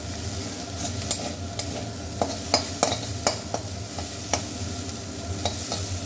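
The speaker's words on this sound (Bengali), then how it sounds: "এখন পুরোটা একটু নেড়ে চেড়ে নামিয়ে বেটে নেবো পাটা" Ingredients for a small-shrimp paste being stir-fried in a pan, giving a continuous sizzle with a run of sharp spatula scrapes and taps at an uneven rhythm, close and with no talking.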